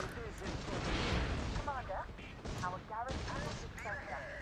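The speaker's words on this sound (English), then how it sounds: "So those are just the towers shooting at this point." Defensive towers fire auto attacks in the Warpath video game, with repeated muffled booms and gunfire-like bursts mixed under a steady battle wash and short chirping effects.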